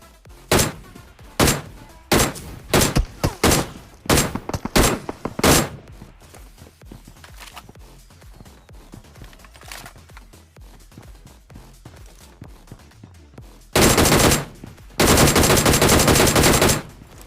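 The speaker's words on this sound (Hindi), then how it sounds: "तो इस जीप में मैं बहुत गोली मारता हूँ ये, पर ये फटती ही नहीं" Gunfire aimed at a jeep in PUBG Mobile: loud rhythmic single shots over the first six seconds, quieter scattered shots after, then two long sustained automatic bursts near the end.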